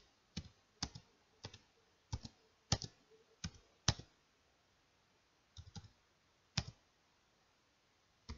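Numbers typed into Microsoft Word on a computer keyboard: sparse, crisp clicks, single or in quick pairs, spread irregularly over about eight seconds in a quiet room.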